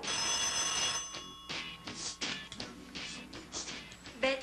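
Telephone bell ringing in a Greek comedy film scene, a repeated electric ring cutting through loud, busy background sound with voices.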